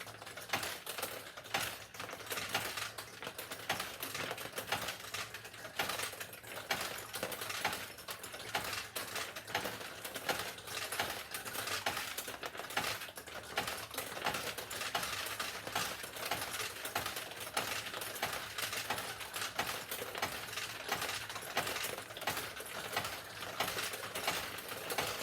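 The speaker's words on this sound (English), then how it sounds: "launching a Pachinko ball on any Pachinko machine is get it to lose its momentum right up in this area" Nishijin Model A Recycler vintage pachinko machine with a dense, continuous rattle of steel balls launching and clattering through the pins, steady and close throughout.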